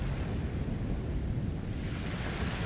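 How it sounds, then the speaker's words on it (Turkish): Sea waves in the Tarisland game world, heard as a continuous, heavy roar of surf blended with a windy rush, steady and close with no pauses or voices. "Özellikle deniz sesleri çok sıkıntılıdır oraya."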